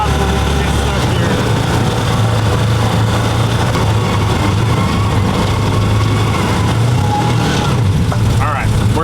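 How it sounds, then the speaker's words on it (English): A side-by-side UTV engine drones loud and steady on a wet, muddy trail, revving and straining the whole time with a heavy low rumble. "here we go, our first official drive with four-wheel drive"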